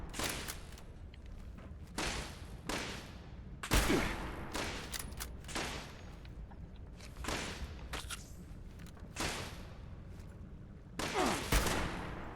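Gunfire from Soldier 76 in the video game Overwatch: repeated bursts of rapid automatic shots separated by short gaps, loud and close, with a few heavier blasts mixed in.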